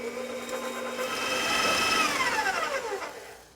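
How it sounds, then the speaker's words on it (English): An electric mixer blends butter and sugar for pumpkin biscotti at medium to high speed, a steady whirring hum whose pitch bends downward toward the end, with no talking. "blend that on medium to high speed for a few minutes until it becomes lighter and"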